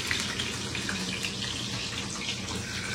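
Rohu fish frying crisply in a pan, a steady, close hiss and crackle of hot oil that holds at an even level for the whole stretch, with no talking.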